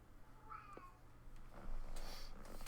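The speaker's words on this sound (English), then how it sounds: "he just starts meowing" A very loud house cat meows from a couple of rooms away, a short distant call rising over a quiet room with low background hum.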